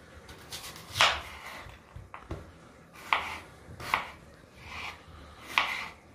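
A knife chopping onion on a board, a few sharp, separate cuts spaced about a second apart, quiet and close with soft scraping between strokes.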